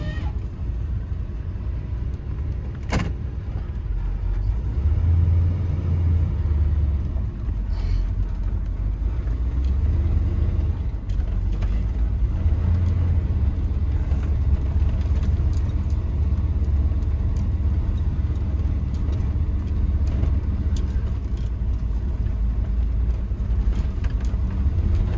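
A 1979 Chevy K10 4x4 squarebody with a Blueprint 400 6.6L engine and Dynomax exhaust accelerates hard. A deep, loud, steady rumble is heard from inside the cab throughout.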